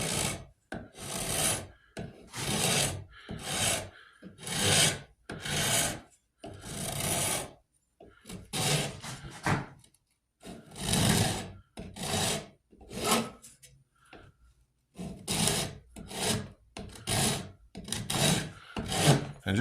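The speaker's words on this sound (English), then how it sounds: "I'm going to start with a file or a rasp, go around it with a rasp a few times" Rasp filing the wooden stock of a .50 caliber St. Louis Hawken rifle, close repeated rough scraping strokes in a steady back-and-forth rhythm with brief pauses between groups.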